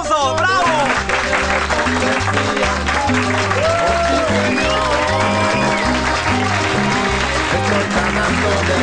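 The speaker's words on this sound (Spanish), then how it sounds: "¡Aplausos! ¡Bravo!" Studio audience applause and cheering at a roadside food-cart cooking show, steady and loud throughout under a bed of music, with scattered shouts rising above the clapping.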